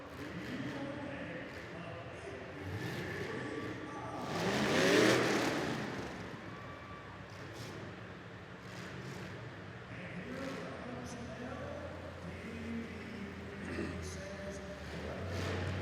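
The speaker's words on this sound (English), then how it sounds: "74 Caddy two-door" At a demolition derby, a 1974 Cadillac two-door's engine revs and roars, swelling to a loud peak before settling into a steady rumble amid other derby cars, with a commentator talking over it.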